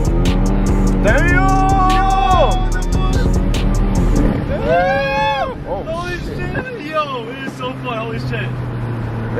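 Hyundai Elantra N engine revving and accelerating on a race track, loud and close with rising and falling pitch sweeps as gears change, with wind buffeting and people talking excitedly over it.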